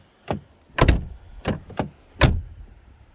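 A Ford car door with a cheap plastic interior bangs shut several times, a series of five sharp hollow thuds spaced unevenly, close and loud, with no talking.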